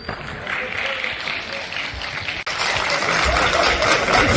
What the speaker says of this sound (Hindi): तालियां तो बनती है बॉस।